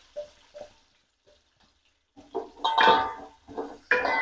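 Masala mix frying in hot oil in a pan for tapioca biryani, heard as short sizzling bursts that swell louder and denser toward the end, with stirring noises and no talk.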